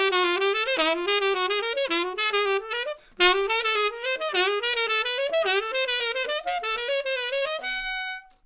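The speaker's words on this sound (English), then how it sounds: "So on the sax, it will sound like this." A saxophone plays a chromatic enclosure exercise, two notes from above then down into the target, in quick four-note groups stepping upward, loud and solo, ending on a held note.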